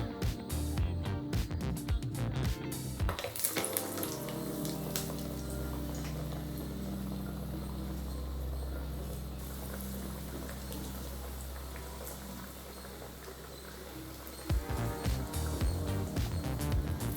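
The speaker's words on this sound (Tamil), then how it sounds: "மாவை இது மாதிரி ரவுண்டாக போட்டு எண்ணெயில் போட்டு பொரிச்சு எடுத்துடலாம்" Loud clattering, then a steady, continuous sizzle of masala vada frying in hot oil, with clatter returning at the end.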